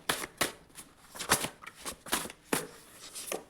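Tarot cards being handled and drawn from a deck, giving a series of short papery flicks and shuffles at a fairly steady, uneven rhythm, close and moderately quiet with no talking.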